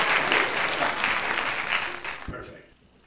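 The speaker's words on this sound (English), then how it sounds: "Spontaneous applause now." Spontaneous audience applause at a Las Vegas sing-along songfest, a dense wash of clapping that holds steady and then fades away near the end, with a brief voice faintly underneath.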